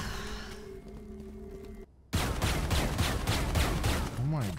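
Rapid automatic gunfire in the tactical shooter Valorant, a sustained burst of sharp repeated shots following a brief silence, loud and close with a short whooshing effect near the end.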